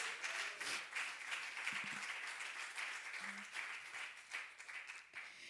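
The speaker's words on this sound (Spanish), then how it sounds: "Denle fuertes palmas al Señor" Audience at a church service applauds in praise, a steady, fairly faint wash of clapping that runs through the whole stretch.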